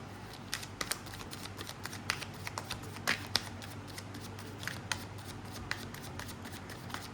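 Tarot cards being shuffled by hand, a steady run of soft riffling flicks and papery slaps up close, with no talking.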